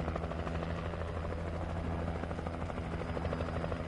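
In the video game Alan Wake on PS5, a helicopter thrums steadily with a continuous rotor chop, loud and unbroken throughout.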